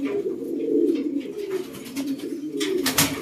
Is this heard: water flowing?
no